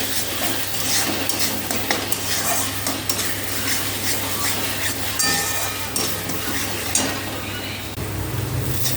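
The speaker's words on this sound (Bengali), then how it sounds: "এবার এটা কষাতে থাকবো," Spice masala with garam masala being stir-fried in oil in a pan, a steady close sizzle with repeated scraping and clinking of the spatula against the metal throughout, with no talking.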